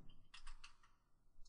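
Quick bursts of computer keyboard keystrokes, several rapid clicks close up, typing a web address with a short pause before a final key.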